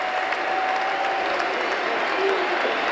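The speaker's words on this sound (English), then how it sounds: "Even the St Helens supporters clapping their own adversaries." A large stadium crowd at a rugby league cup final claps and cheers through the trophy presentation, a continuous, dense wash of applause heard from a distance under a broadcast commentator's voice.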